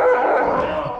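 A husky lets out a brief, tonal whining bark, close and fairly loud, with a second short yip at the very end.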